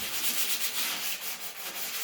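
A 1978 Ford F100 dashboard is hand sanded with a steady, close scratching rub in quick back-and-forth strokes, alone and fairly quiet.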